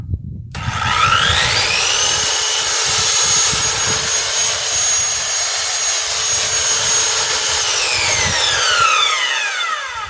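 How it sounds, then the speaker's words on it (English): A Ryobi power saw powered from a Generark portable power station spins up and runs steadily at full speed for about eight seconds with a high whine, then winds down, loud and close with no talking. "This is my Ryobi power saw."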